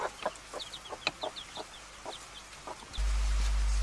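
Chickens on an off-grid homestead cluck in short, scattered bursts close by while feeding, with small peeps mixed in, before a steady low rumble takes over near the end.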